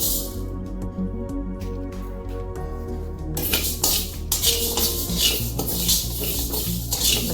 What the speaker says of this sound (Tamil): கடாய் சூடாக இருக்குதுங்க அதனால் நான் எல்லாமே இதுலேயே வறுத்துக்கிறேன் லேசாக சிவக்க வறுத்துக்கணும்